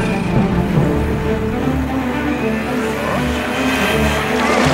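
A cartoon motorboat engine drones steadily through a race, its busy buzzing hum holding fairly loud and even across the whole stretch with a slight rise near the end.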